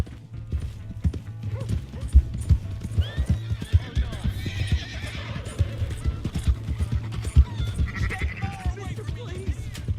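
A horse in Red Dead Redemption 2 clip-clops at a brisk gallop and lets out a whinny partway through, the hoofbeats close and rhythmic while voices shout over them.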